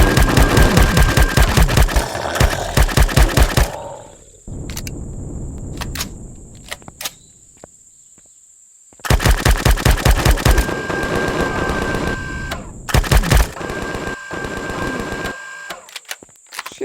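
Rapid automatic weapon fire in the video game Empyrion Galactic Survival, loud, close bursts of fast, evenly spaced shots separated by quieter gaps with sparse single shots and a steady high whine.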